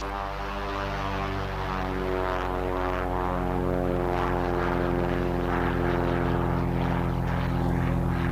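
A propeller plane takes off near Milford Sound in New Zealand's Fiordland, its engine drone steady and loud with strong harmonic buzzing that rises slightly in intensity, heard from on board with no speech.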